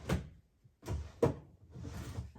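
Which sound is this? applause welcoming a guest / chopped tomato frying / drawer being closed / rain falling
drawer being closed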